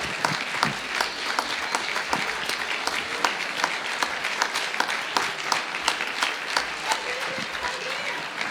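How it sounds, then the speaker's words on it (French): Audience clapping after a Christmas show, a sustained dense round of applause from a crowd indoors, steady and lively from start to finish. "merci de les applaudir encore"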